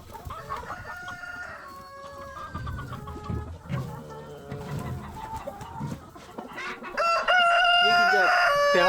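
Chickens cluck and chatter in a farmhouse coop on a rural Korean homestead, busy overlapping calls building to a loud, close rooster crow at the end.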